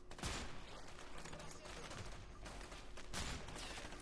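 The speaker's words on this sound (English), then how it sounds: "Steph, put the crosshair on them and then shoot" Gunfire in the video game A Way Out, with bursts of shots over a dense, noisy game soundtrack and a few sharper cracks standing out, faint overall.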